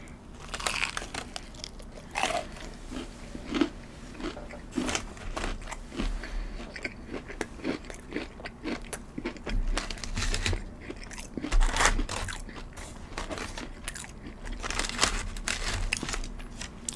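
Wingstop chicken tenders with nacho cheese are bitten and chewed close up, making repeated crisp crunches and wet chewing sounds in an irregular rhythm throughout.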